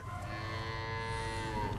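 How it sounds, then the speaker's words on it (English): Cattle lowing in a barn housing dry cows close to calving, one long, loud, sustained moo sounding close by, with steady barn noise underneath and no talk. "these are the dry cows. These are all expecting to calve."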